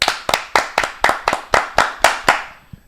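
Ten sharp hand claps in a steady, slightly quickening rhythm, loud and close, each one ringing briefly before the next, with no other sounds around them.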